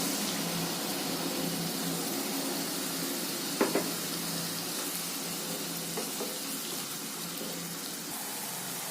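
Paste of cashew, curd, poppy seed, mustard and green chilli frying in oil in a pan for a prawn malai curry, a soft continuous sizzle with a short utensil clink midway.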